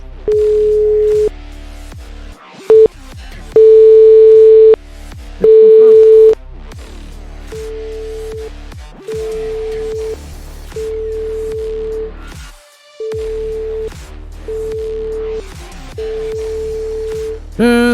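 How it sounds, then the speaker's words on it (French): A telephone line gives repeated electronic ringing tones in short on-off bursts that go unanswered, heard close and loud on the line of an unwanted sales or scam caller. "On entend que ça sonne un peu dans le vide"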